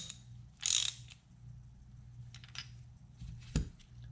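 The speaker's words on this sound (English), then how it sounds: "Just screw that in, make sure it stays in place using our 13/16 socket." A ratchet drives a 13/16 socket to tighten a part on a scuba first-stage regulator, giving quiet, brief bursts of clicking separated by pauses.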